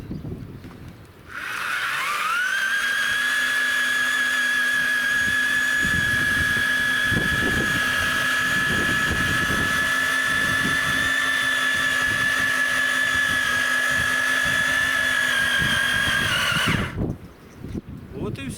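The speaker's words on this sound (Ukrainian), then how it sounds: "участок приходимо, починаємо сверлити" A drill whines steadily at close range for about fifteen seconds while boring planting holes in the ground for Chervona Kalyna, Slatino and Vodoliy grape cuttings, with irregular low thumps and scraping beneath the tone.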